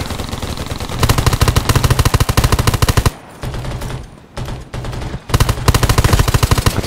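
Rapid automatic gunfire in the zombie survival video game Undawn, loud close bursts of fast repeated shots broken by brief pauses and a short lull before firing resumes.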